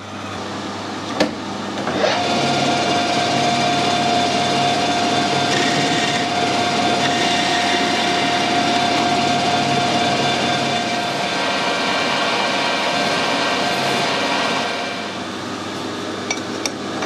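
A metal lathe turning down the diameter of an Acme lead screw blank after centre drilling, a steady whine with a sustained tone and broad machining noise running for most of the stretch, close and loud with no talk.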